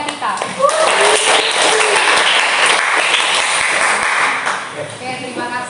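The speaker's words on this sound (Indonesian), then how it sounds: "kita beri aplaus untuk kelompoknya kita." Classroom applause for a student group that just presented in an Indonesian teacher-training session: dense, steady clapping from many hands fills the room for several seconds, then thins out near the end.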